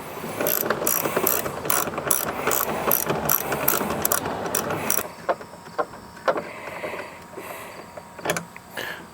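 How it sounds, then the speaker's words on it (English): An 8mm socket on a ratchet backs out the antenna mount bolts on a Jeep, giving rapid close clicking pawl runs for several seconds, then scattered lighter clicks and handling noises. "We use a socket with an 8mm to take these bolts off."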